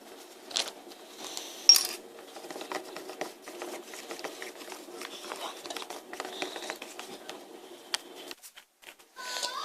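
Red bean porridge-style slime stirred after soda is added, making quiet sticky clicks, taps and wet squelches in an irregular, continuous patter close by.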